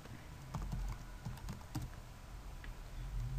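A computer keyboard clatters with a short burst of quick, light keystrokes followed by a few scattered taps. The sound is faint and close against a quiet room hum.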